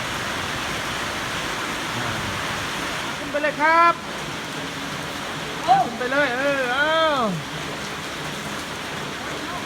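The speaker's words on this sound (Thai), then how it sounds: "ดูเหมือนว่าฝนจะเริ่มซาแล้วนะครับ" Steady rain falling outdoors as a heavy downpour starts to ease, a constant hiss throughout, with people briefly calling out over it in the middle.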